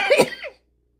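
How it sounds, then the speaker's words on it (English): A single short, sharp cough, loud and close, ending abruptly into silence. "I always cough when I dry up my ears and clean up my ears."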